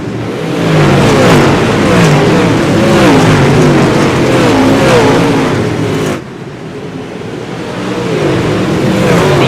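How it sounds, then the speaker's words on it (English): A pack of 28 UMP modified race cars roars past at close range, engines revving and whining in a loud continuous rush that dips briefly before swelling again. "Let's go racing. 28 UMP Modifieds."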